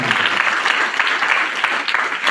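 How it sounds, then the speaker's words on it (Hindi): A crowd gathered for a talk in Damoh, Madhya Pradesh, breaks into dense, steady applause, many hands clapping close and loud throughout the short stretch. "एक बार आपके लिए भी जोरदार तालियां हो जाए"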